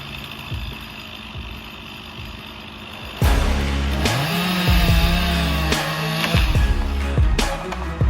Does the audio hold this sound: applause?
no